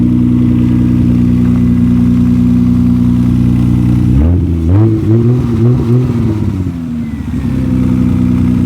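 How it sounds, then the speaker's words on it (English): A 1997 Toyota Camry XLE V6 engine idles steadily up close, then revs and shifts partway through as the car pulls away on a test drive before settling back to a smooth hum. "Close the hood and take it for a little test drive."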